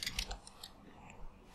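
Typing on a computer keyboard while setting up code: a short burst of quiet, close keystroke clicks in an uneven rhythm, faint and alone.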